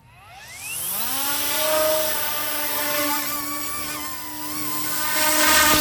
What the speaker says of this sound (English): Those direct drive motors are putting out a good amount of power too. Let's spool back up.